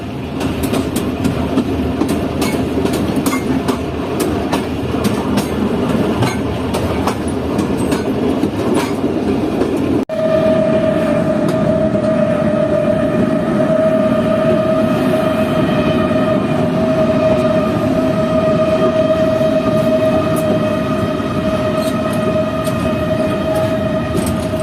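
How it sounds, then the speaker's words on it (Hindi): A train rumbles steadily through Kuchlak market in Balochistan, Pakistan, as it approaches the station. Wheels clatter and screech continuously, and partway through a sustained metallic squeal rises and holds. Loud and close throughout, with no voices. "तो इस वक्त ट्रेन अप्रोच कर रही है कुचलाक रेलवे स्टेशन पर।"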